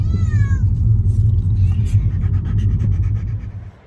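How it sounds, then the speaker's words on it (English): Unhappy cats in a car on the way to the vet give a rising, wavering meow, followed by fainter mewing cries over a steady low engine rumble that carries throughout before tapering off. "They're not happy, the cats."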